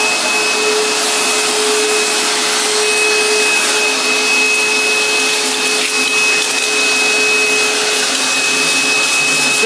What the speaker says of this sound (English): Loves to have his face sucked with the vacuum hose.